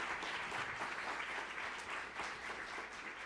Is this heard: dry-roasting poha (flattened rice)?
no